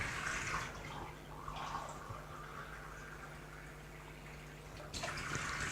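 Water pours steadily into a paella pan as cups are added to cover the food, a soft continuous splashing trickle at moderate distance with brief pauses between pours, no talk.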